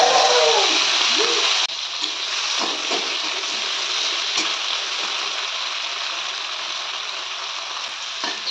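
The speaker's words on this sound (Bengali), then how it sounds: "তেলটা গরম হয়ে গেছে, এবার আমি চিংড়িগুলো এর মধ্যে দিয়ে দেব।" Prawns frying in hot oil in a wok give off a loud, steady, crackling sizzle that runs the whole time, with faint stirring and no voices.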